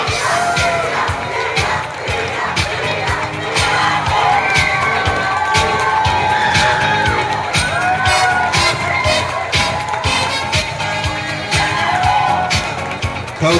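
A crowd cheers and whoops loudly for the champions of a tournament, with young shouting voices and yells over a continuous roar of applause, close and sustained.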